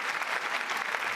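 An audience at a comedy show welcoming a guest with loud, steady applause, a dense wash of clapping throughout with no voices on top.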